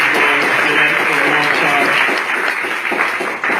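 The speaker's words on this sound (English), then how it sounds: "People like Abe, Bonowitz, if we can give him a round of applause, please, for doing the great work that" Sustained applause from a crowd, steady and fairly loud throughout, with a voice faintly audible beneath the clapping.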